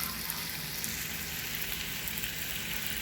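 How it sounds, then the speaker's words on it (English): Garlic frying in a pan for curry, giving a steady, soft hiss of sizzling oil that runs evenly throughout at low volume with no talk. "So this is the second ingredient. This is also frying."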